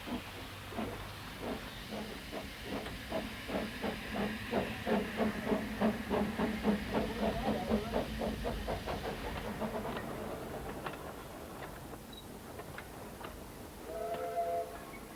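A vintage steam train on the Festiniog Railway chuffs in steady rhythmic beats with a hissing steam wash, the exhaust pulsing loudly before easing off. A brief whistle-like tone sounds near the end.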